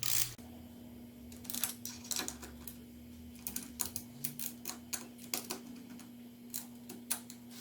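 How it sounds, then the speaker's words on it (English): Faint, irregular metallic clicks from a wrench tightening the 10mm base bolts on a BMW K1600 bagger bar back riser, sounding as sparse ticks over a low steady hum. "And now we're going to tighten up the 10mm bolts in the base."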